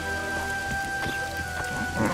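Steady rain hisses and patters on surfaces in a fantasy role-playing game, The Witcher 2: Assassins of Kings, with low thunder rumbling underneath, a continuous even wash without speech.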